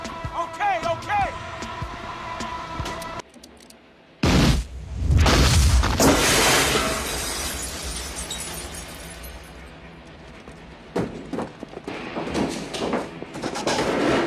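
Sticky bombs detonate during a heist mission in the video game GTA 5, a sudden loud booming blast with shattering debris that rumbles and fades, surrounded by tense game dialogue and score.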